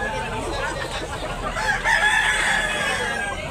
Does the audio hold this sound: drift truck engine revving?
no